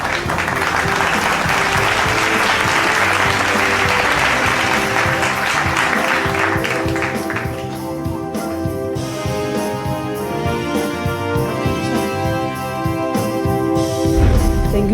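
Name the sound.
audience applause for award winners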